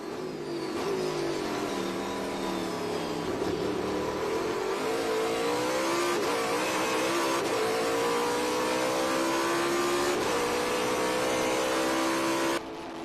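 Trans Am race car at the Circuit of the Americas, its engine revving hard through shifting gears, pitch climbing and dropping in sustained loud runs for the whole stretch with no talk over it.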